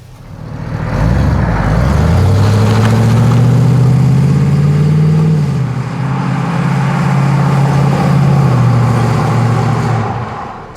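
A 1979 Chevrolet C10 pickup's engine rumbles loud and close as it pulls away and accelerates, then eases and climbs again in a second surge, a steady low drone with no talking.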